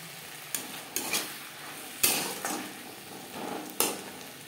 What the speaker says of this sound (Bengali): মশলার সাথে আলু কষাবার সুবিধার জন্য দিয়ে দেব সামান্য পরিমাণে জল